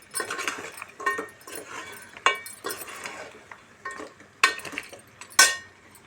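Spiced mutton head pieces are stirred in a metal pan, giving repeated clinking scrapes of a spoon against the pan in an uneven rhythm. A few sharper knocks stand out near the end. The sound is close and clear, with no talking.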